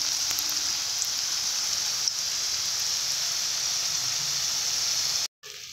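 Rasgulla balls frying in a pan of hot oil for a date-palm-juice rasgulla recipe, a steady, close sizzling hiss that holds evenly before cutting off abruptly near the end.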